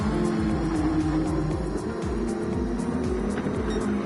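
Several GT2-class racing car engines from a racing video game at Goodwood or Brands Hatch, droning and shifting steadily together in a dense, continuous pack with no voices.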